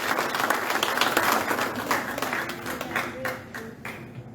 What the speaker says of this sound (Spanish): Denle un aplauso al Señor si usted así lo siente